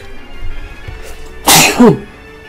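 One close, loud sneeze that bursts out sharply and then tails off into a short voiced gasp, with quiet background before it and no talking.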